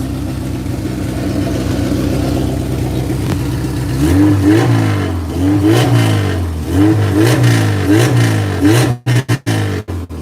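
A RWD Honda engine at operating temperature running loud and close, first a steady idle, then a series of rhythmic revs rising and falling, ending in a few abrupt cuts.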